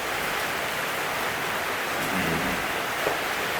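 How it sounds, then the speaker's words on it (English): Steady rain falling, a constant broadband hiss with no other clear sounds standing out. "Why is it raining?"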